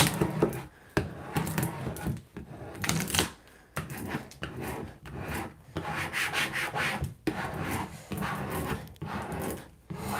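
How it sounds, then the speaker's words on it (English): A squeegee rubs a vinyl stencil down onto wood in repeated close scraping strokes, a rough rhythmic rasp with brief pauses between passes and no talk. "I'm going to rub the vinyl down into the wood using my squeegee."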